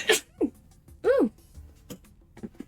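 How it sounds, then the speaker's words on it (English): A single sudden human sneeze bursts out near the start, followed by a few short voiced yelps and exclamations in a quiet indoor setting. "Surprise sneeze!"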